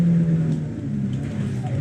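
A Caterham 310R sports car's engine drones steadily and fairly loud from inside the car while it drives along a very small road, its pitch wavering slightly with no talking.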